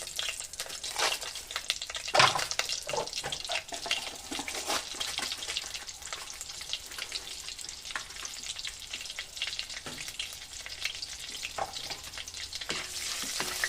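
Butter sizzling in a pan on a stove turned down low: a continuous soft frying crackle with scattered clicks and scrapes of stirring, fairly quiet and even throughout.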